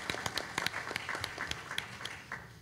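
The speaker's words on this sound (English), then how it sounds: "So just one more round of applause." A board of education meeting audience gives a short round of scattered, fairly quiet applause with individual claps distinct.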